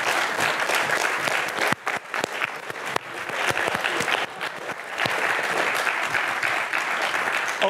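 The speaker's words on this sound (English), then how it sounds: "you can stand up and get your applause" A large audience claps loudly and continuously for contributors to a hypertext project at Brown, a dense wash of applause that carries on throughout with a few sharper individual claps.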